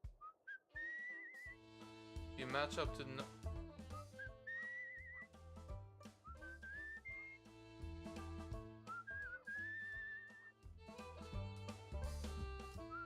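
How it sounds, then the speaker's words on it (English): A character in the video game Where The Water Tastes Like Wine whistles a wavering tune in several short phrases over layered game music, with a brief spoken line mixed in. "Hold left control to whistle."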